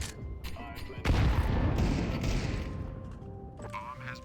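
A grenade blast booms inside a tactical shooter match, a sudden loud burst followed by a long rumbling tail. Scattered gunfire crackles around it, and voices talk over the action.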